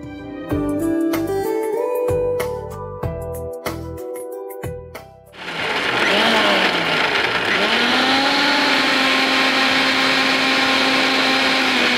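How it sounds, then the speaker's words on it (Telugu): A kitchen mixer grinder blends fresh coconut and green chillies with a little water into paste, a loud steady motor whine with rising and falling pitch that begins about halfway through after some clattering, then runs continuously to the end. "ఇది మిక్సీ పట్టుకోవాలి."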